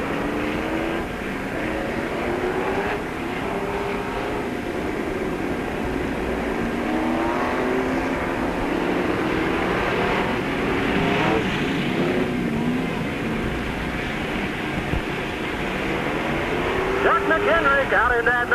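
Race cars roar around the oval at Peoria Speedway, a dense, sustained engine drone rising and falling as cars pass, heard under continuous announcer commentary over the public address.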